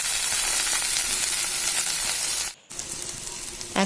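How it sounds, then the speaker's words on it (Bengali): Boiled jackfruit seeds fry in hot mustard oil in a wok with a steady, close, bright sizzle that cuts out briefly near the end, then resumes slightly quieter. "কড়াইতে সর্ষের তেল দিয়ে গরম করে নিয়ে তার মধ্যে দিয়ে দেব সেদ্ধ করা কাঁঠালের বিচি"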